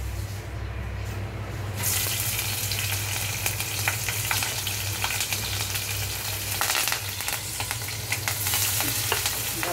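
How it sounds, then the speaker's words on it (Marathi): Tempering spices hit hot oil with a sudden loud sizzle after a quieter moment, and the crackling, hissing fry continues steadily close by to the end. "मी आता सुट्टीला फोडणी करते."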